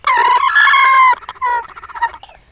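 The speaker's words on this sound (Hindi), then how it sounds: "मुर्गा मेरे हाथ में है, माशाल्लाह इंतहाई खूबसूरत अच्छा असील जानवर है" An Aseel rooster crows loudly and close by, a long rising call that holds steady and then trails off into several shorter broken notes, with no other sound behind it.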